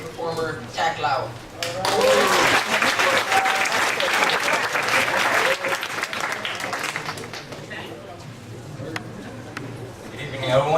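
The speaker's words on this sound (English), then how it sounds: "Big round of applause for our next performer," Applause from an audience at a poetry night, a dense, steady wash of clapping that swells early and carries on for most of the stretch before thinning toward the end.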